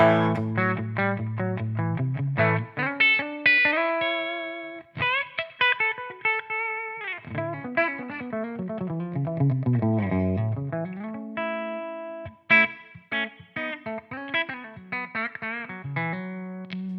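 Electric guitar with a thicker humbucker tone plays a longer lick of chords, bends and single notes, loud and up front with light reverb.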